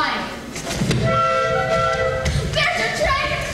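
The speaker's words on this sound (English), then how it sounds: "There's your train! Now run for it!" Train sound effect played during a high school stage production of The Music Man, a loud rumbling rail effect with whistle-like tones running throughout, mixed with actors' voices and stage noise.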